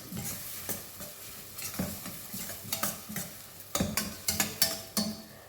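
Eggs frying in a pan for a spicy egg curry with tomato, a steady sizzle broken by repeated scraping and clinking stirs of a spoon against the pan, close and fairly quiet.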